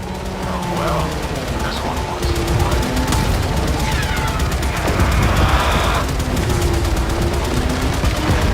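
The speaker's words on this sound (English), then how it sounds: "Fire full salvo" Full salvo of weapon fire in the Warframe video game, a loud sustained barrage of rapid gunfire and blasts that rolls on without pause.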